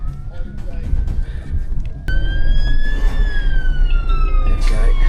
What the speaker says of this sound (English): I can hear the fire engine in the background making its way up.